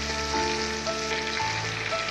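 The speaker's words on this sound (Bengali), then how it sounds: "আমি মাছটা উল্টিয়ে দিচ্ছি।" A freshly flipped fish frying in a pan: a dense, even sizzle holding steady throughout, with faint tonal background sounds.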